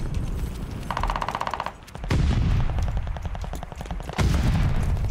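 Dense, rapid automatic gunfire from the video game Call of Duty Vanguard, with bursts chattering almost continuously and growing louder in two surges.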